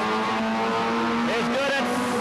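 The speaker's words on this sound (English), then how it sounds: "putting that Louise Smith special through his paces. Here he comes on lap number 1" A Goody's Dash race car lapping the track during qualifying at Anderson, South Carolina in 1988, its engine droning steadily with a rising whine as it passes, under announcer commentary.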